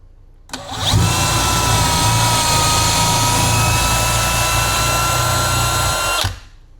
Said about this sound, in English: drill a hole in this thing